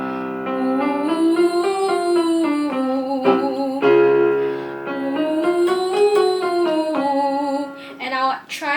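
Classical singer warming up on a sustained oo vowel, a solo voice gliding through smooth connected scale patterns with vibrato, rising and falling in arching phrases, close and clear for about nine seconds.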